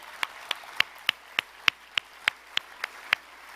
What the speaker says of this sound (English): Can we get one more round of applause for John and all of his energy?